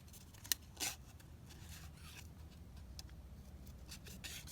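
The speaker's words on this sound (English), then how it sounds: "I think this one actually is quite nice, so let me just cut around here" Scissors cut around a paper butterfly in quiet, faint snips and rustles, with a couple of sharper clicks early on and soft papery cutting after, close but low in level.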